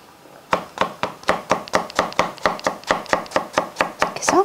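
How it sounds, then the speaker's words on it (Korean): A knife julienning 5 cm lengths of carrot on a cutting board while preparing Korean noodle soup: about eighteen crisp, evenly spaced chops, close and loud, with no talk. "그거의 길이에 맞춰서 이렇게 해서 다 채 썰어 줄 거예요."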